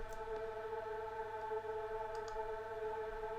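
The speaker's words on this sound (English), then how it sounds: "So for the drone, it just sounds like this." Deep progressive house drone pad resampled from a vocal: a sustained, steady tonal hum with stacked harmonic layers, quiet and unchanging, with faint clicks on top.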